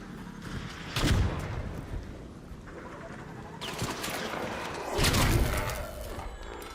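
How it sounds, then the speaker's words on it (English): Gunfire in the shooter game ARC Raiders, with bursts of shots and booming impacts rising and fading over a constant rumbling background, fairly loud throughout. "Someone shooting at me"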